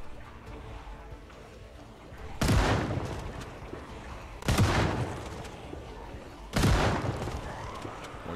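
Gunshots fired at zombies in the survival video game Project Zomboid: three loud, sharp bursts roughly two seconds apart, each with a short decaying tail, over a low background.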